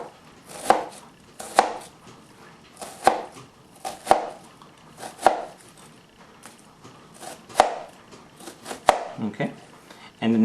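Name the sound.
cutting an onion with a knife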